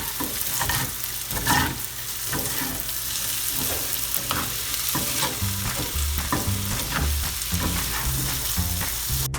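Spicy potatoes roasting in a pan over a medium-high flame, sizzling steadily while a utensil stirs and scrapes them in irregular bursts, with no voices.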